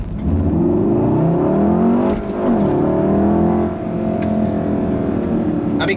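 A 2016 Volkswagen Golf R with a six-speed manual gearbox and all-wheel drive accelerates hard, its engine note climbing through the revs, dipping at a gear change, then pulling again, loud and close from inside the car.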